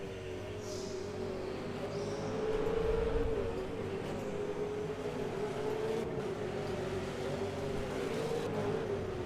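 A V8 race car on a flying lap at Symmons Plains, its engine note climbing and falling through gear changes, sustained and somewhat distant under a faint broadcast bed.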